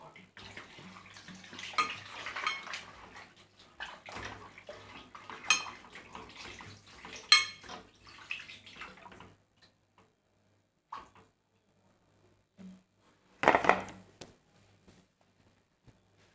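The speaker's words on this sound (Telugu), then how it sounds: "దీంట్లో ఇప్పుడు ఒక 1/2 లీటర్ వాటర్ పోసుకుందాం." Half a litre of water is poured into a chicken marinade for a restaurant-style chicken fry, a close continuous splashing pour with light clinks of a bowl, then quiet with a couple of brief knocks.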